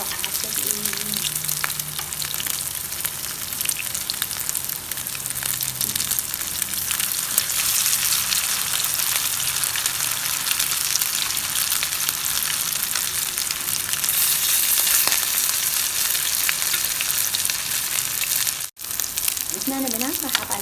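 Kebab patties sizzle and fry in a pan of hot oil, a dense continuous crackling that stays loud and close throughout, with occasional faint stirring or shifting noises.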